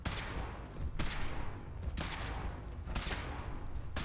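A weapon fires repeatedly in Fallout 4, probably the alien pistol or a power-armour test rig: sharp bursts land about once a second, each cracking over a steady background rumble.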